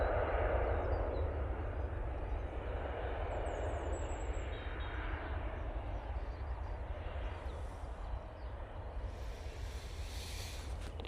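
A KLM airliner touches down at Manchester Airport in low visibility, a broad steady roar of jet engines and rushing air, fairly loud and sustained with no talk over it.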